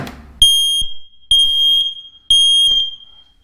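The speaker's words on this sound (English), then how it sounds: "why you've got to get CO alarm, because it's so important" A carbon monoxide alarm in a house being wired sounds three loud, shrill electronic beeps, each held for about half a second, with brief gaps and low knocks between them and no talk.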